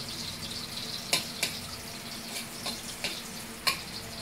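Onions frying in a pan give off a steady, close sizzle, with a few sharp clicks from stirring spread through it and no talking.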